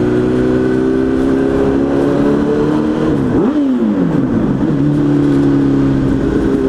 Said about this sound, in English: Do a little exhaust mic test.